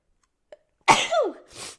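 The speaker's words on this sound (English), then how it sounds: "I'm gonna sneeze" A single sharp human sneeze bursts out after a faint soft intake of breath, close and loud, followed by a brief breathy trailing exhale.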